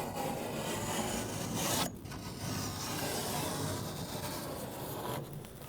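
Utility knife scoring drywall along a metal T-square, giving a steady, faint, continuous scraping rub that pauses briefly midway, with no talk.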